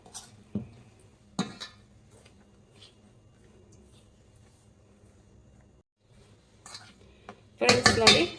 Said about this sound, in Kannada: ಮಿಕ್ಸ್ ಮಾಡ್ಕೊಳ್ಳಿ ಸ್ಪೂನಲ್ಲಿ